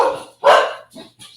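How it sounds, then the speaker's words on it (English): A dog barks sharply up close, a loud bark followed by two shorter, softer yips in quick succession with brief silences between. "The dogs is hollering."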